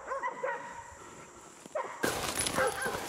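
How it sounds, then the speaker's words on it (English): Hunting dogs baying at a cornered wild boar during a hog hunt, with several yips and short barks, moderately distant, building louder after a sudden burst of outdoor noise midway. "The working dogs on this hunt are trained to find and bay, or circle and bark at a hog, keeping it cornered and busy"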